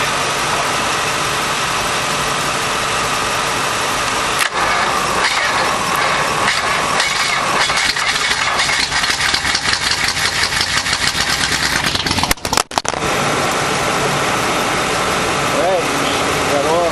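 An old Chrysler 331 poly engine, first started after 30 years with starting fluid, rumbles steadily at idle, rough and loud up close, with a few sputters and knocks partway through.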